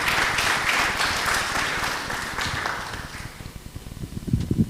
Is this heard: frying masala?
no